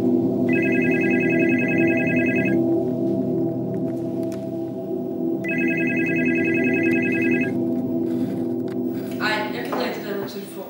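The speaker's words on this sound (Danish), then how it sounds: "ringer telefonen." A telephone rings in two long electronic bursts, each about two seconds, within a spooky horror-movie-style home scene; a steady musical drone runs underneath and a brief voice-like sound follows near the end.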